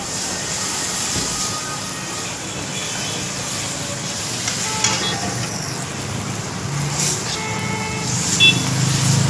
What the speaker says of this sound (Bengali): জল দিয়ে আর অল্প সময় লাল করে ভেজে নেব মশলাটা